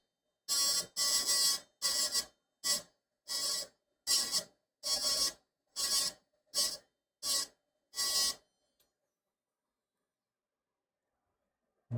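Grinding away layers of an iPhone 13 Pro Max logic board: about ten short, harsh rasping bursts in an uneven rhythm, close and fairly loud, then silence.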